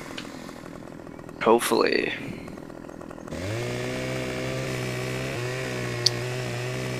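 Chainsaw cutting through a tree in Farming Simulator 2015: a steady engine drone with a stable pitch runs through the second half, opened by a brief burst of revving, while a voice talks over it.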